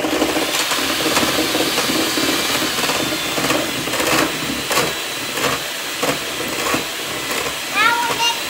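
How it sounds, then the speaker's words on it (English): Electric mixer blending red cupcake batter, a continuous whirring motor hum with repeated rhythmic knocks of the beaters against the bowl, close and steady. "with the mixer. Here we go."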